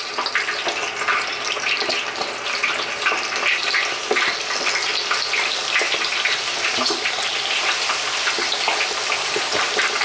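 Steady, dense sizzling and crackling of bacon frying in lard fills the whole stretch, loud and close with no voices.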